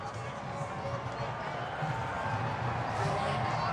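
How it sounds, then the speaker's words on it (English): A large crowd of celebrants gathers outside the White House, a dense, steady roar of many voices with scattered shouts and cheers close by. "But outside the White House, there is quite a crowd of celebrants."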